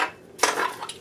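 Small gingerbread-man-shaped metal measuring spoons handled, giving a brief bright jingle and clatter of spoons knocking together, close and fairly quiet, with no talking.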